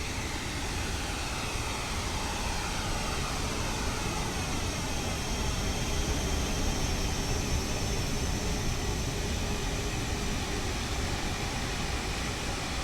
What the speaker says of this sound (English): I'm taxiing fast on this part, about 25 knots.